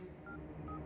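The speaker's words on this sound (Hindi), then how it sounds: "मैं फोन लगा रहा हूँ" A phone is dialed, with two short keypad tones beeping quickly in a quiet room and no one talking.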